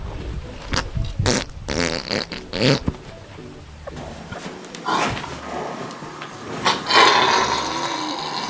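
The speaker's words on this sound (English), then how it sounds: "A horse with a large stomach can fart intermittently for about 2 to 5 minutes." A horse farting: a series of loud, sputtering flatulent blasts, irregular and close, with short pauses between bursts and a longer rasping one near the end.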